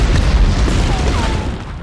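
A grenade bursts in the 1999 PS1 game Medal of Honor, a heavy low boom that rumbles and fades over about two seconds.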